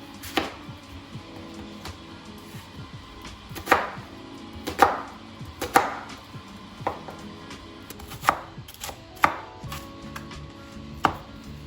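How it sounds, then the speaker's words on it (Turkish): A knife chops onions on a cutting board in irregular sharp knocks, about a dozen hits spaced apart, close and clear with no talking. "Burada iki adet soğanım var. Hemen şöyle küçük küçük doğrayacağım."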